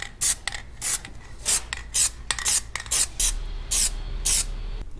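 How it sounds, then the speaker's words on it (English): Short bursts of aerosol spray as coats of Plasti Dip go onto the mirrors of a Dodge Dakota R/T pickup, about nine hissing passes in a steady rhythm, close and loud, with no talking. "I'm gonna go ahead and spray them with a coat of plasti"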